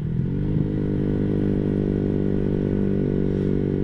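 Clutch motorcycle engine dropping from third gear as it enters a corner, a steady loud harmonic drone with a short rev blip near the start, then settling to an even hum throughout.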